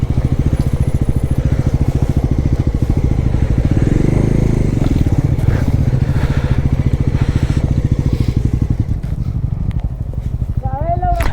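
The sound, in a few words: Bajaj Pulsar N160 motorcycle climbing uphill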